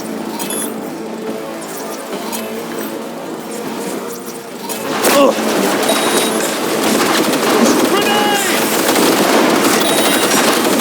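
Heavy gunfire in a Cyberpunk 2077 battle against Arasaka: sustained loud automatic bursts and shots that swell after a quieter opening, with shouted voices and clinking debris mixed in.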